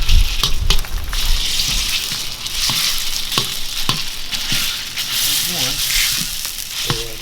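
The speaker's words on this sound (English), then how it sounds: "So we're going to brown this breakfast sausage." Breakfast sausage browning in a hot pan, a loud continuous sizzle and crackle with repeated scraping and stirring knocks, a voice briefly audible near the end.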